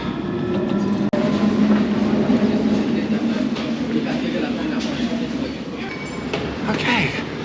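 A London Underground train on an old line heading toward Embankment rumbles steadily with a continuous low roar and faint rhythmic clatter, heard from inside the carriage.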